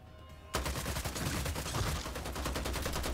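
Rapid automatic gunfire in the vampire shooter game Vampire: Blood Hunt bursts in after a short quiet moment and keeps going as a loud, dense stream of close shots to the end.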